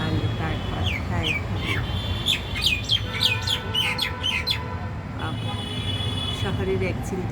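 Birds calling from a small city balcony, with repeated squawks and chirps, fairly close and clear over a steady background hum, while a person speaks softly underneath.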